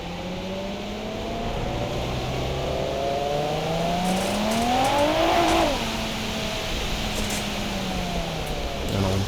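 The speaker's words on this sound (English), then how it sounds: "This car also sounds incredible" A fully built 500-horsepower drift car in a video game revs hard for several seconds. The pitch climbs to a screaming peak and then falls back, loud and close, with faint talk underneath.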